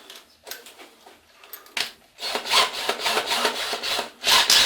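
A drill bit bores into a wooden handle for a homemade knife made from hedge clippers: a quiet start gives way to louder, rough grinding and rasping bursts in uneven strokes, heard close.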